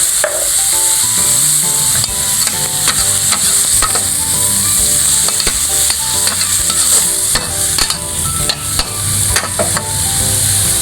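Pork stir-fries in a hot pan with constant loud sizzling, while a metal spatula scrapes and clanks repeatedly against the pan over background music.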